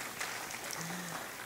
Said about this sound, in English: Let's clap unto grandmothers who are grandmothers.